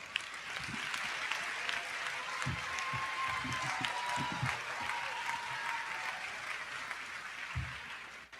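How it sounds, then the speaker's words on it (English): A concert choir and its director are applauded at a university convocation, a steady, moderately distant round of clapping lasting throughout. "We need one more round of applause for Mr. McPherson and the concert choir."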